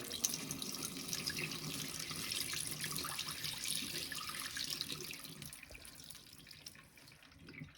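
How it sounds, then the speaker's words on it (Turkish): Dirty rinse water from sprouting wheat is poured into a sink in a steady, faint splashing stream that lasts several seconds and tapers off at the end. "Evet pisliklerimizi şöyle dökelim arkadaşlar lavaboya."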